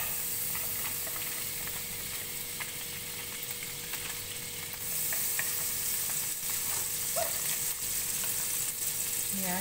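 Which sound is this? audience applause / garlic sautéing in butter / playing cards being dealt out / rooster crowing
garlic sautéing in butter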